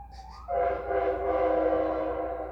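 A train passes on Long Island, New York, its horn sounding a long steady blast that swells loudly after a softer start and holds through the end.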